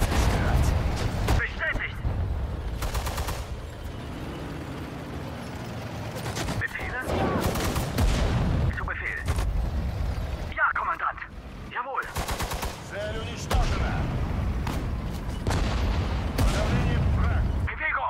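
Bursts of rapid gunfire and heavy booming cannon blasts repeat in clusters, loud and close, with shouted German voices in between, in the video game Sudden Strike 4.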